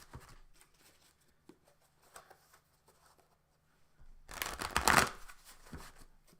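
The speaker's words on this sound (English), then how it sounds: "We'll shuffle the cards back together and be right back underway." A deck of playing cards shuffled during a break in a roller derby board game broadcast, a quiet stretch of faint taps and handling, then a loud close riffle burst lasting about a second.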